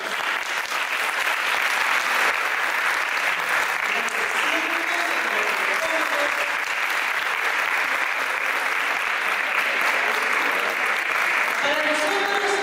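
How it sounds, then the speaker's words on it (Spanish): A school audience at a Book Day launch of a book of mining-town myths and legends claps warmly for the authors, a dense, sustained round of applause filling the whole stretch at a steady level. "Con un fuerte y cariñoso aplauso al profesor Carlos Jerez y al profesor Domingo."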